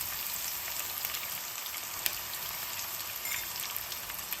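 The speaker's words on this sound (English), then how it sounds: "So when the oil is nicely heated up, we are going to go in with the onions" Sliced onions fry in hot oil for a traditional Bangladeshi fish curry, giving a soft, even hissing sizzle that holds steady and close with only faint crackles, no voices.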